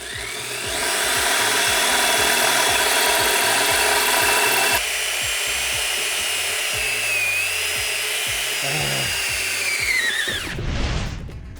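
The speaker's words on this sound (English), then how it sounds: "We were able to drill them out." A power drill grinds steadily into metal, drilling out stuck bolts on a pit bike wheel, for about ten seconds with a faint ratcheting whine, then winds down and stops.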